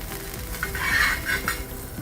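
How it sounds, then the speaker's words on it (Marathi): A roti wrap fries in butter on a hot griddle, giving a steady close sizzle with soft scraping and stirring touches, no talk over it. "आता हे आपण परत तव्यावर थोडंसं बटर घालून छान असं परतून घ्यायचंय"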